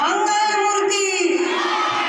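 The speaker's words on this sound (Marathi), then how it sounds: "एकदा जोरदार या मुलांसाठी टाळ्या होत्या" An audience at a Ganesh festival singing competition cheers and shouts loudly for the children on stage, a dense burst of excited high voices that fades after a couple of seconds.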